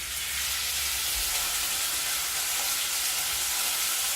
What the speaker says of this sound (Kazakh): ұсақтап турап алып қуырамыз